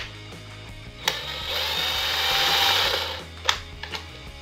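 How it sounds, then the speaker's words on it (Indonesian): A cordless impact drill with 320 Nm of torque whirs steadily for a couple of seconds, with sharp clicks and knocks before and after the run, close by with no talking. "Jadi dia bisa difungsikan sebagai bor biasa pada umumnya."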